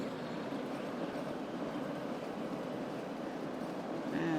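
Metro train in the city-building game Cities: Skylines, a steady rumbling run of wheels and carriage noise holding at an even level for the whole stretch, with a faint squeal rising near the end.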